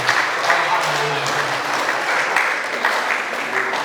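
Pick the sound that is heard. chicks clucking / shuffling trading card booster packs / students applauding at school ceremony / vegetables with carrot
students applauding at school ceremony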